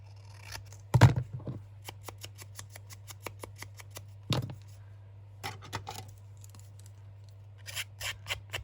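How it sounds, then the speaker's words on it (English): Scissors snip through paper while trimming the top edge of a junk journal bellyband pocket, a few crisp close cuts with a louder snip near the start and scattered lighter snips and rustles after, over a steady low hum. "I think I want to trim off a little bit off the top of this one"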